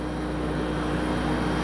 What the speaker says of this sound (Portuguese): O avião que transporta a princesa Diana acaba de pousar aqui na base aérea de Belém.